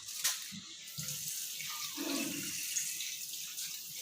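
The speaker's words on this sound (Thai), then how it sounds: "เราก็จะล้างทำความสะอาดรอบนึงก่อนนะคะ" Boiled beef offal is rinsed under a running kitchen tap. A steady stream of water pours close by, with splashing that thickens midway as the meat meets the flow, and no one speaks.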